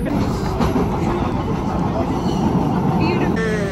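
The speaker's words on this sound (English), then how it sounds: "at least it's like a newer train." Steady loud rumble and rattle of a newer train in motion, heard from inside a car, with a continuous low roar throughout.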